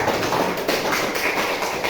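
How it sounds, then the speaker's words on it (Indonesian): A classroom of students at a junior high school claps hands together in a steady, dense patter of many overlapping claps, fairly loud and continuous with no talking. "Kita tepuk tangan kita sama dulu."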